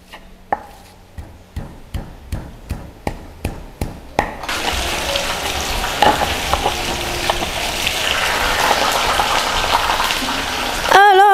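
Sambal cikur with salt being worked in a stone mortar and pestle: about nine sharp, evenly spaced pounding knocks, then a continuous gritty grinding rasp that carries on loudly to the end.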